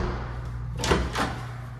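Coat closet door in a tiled Scottsdale, Arizona home opening, two soft sweeping swishes close by a second apart over a steady low hum, with no talking.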